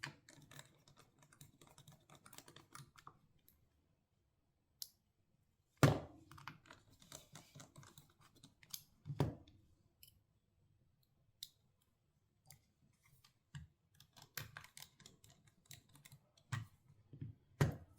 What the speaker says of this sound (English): And then I go around the edges and start putting all the screws back in.